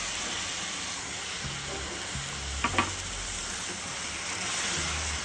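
Garlic and ground tomato paste sauté in hot oil in a pan for a Madurai wedding-style chicken pepper masala, giving a steady close sizzle and hiss with a few brief spoon scrapes partway through.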